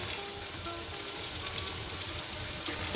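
Onion and chili flakes stir-frying in a pan, a steady close crackling sizzle with light irregular pops throughout, no talking.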